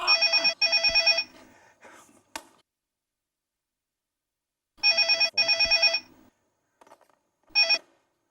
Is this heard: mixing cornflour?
no